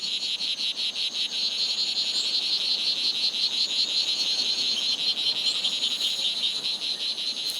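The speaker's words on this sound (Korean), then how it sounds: "수컷은 암컷의 관심을 끌기 위해 울음주머니를 크게 부풀린다." A dense, continuous chorus of high-pitched strawberry poison dart frog calls, steady and rhythmic, with rapid pulsing trills layered over one another and no voices.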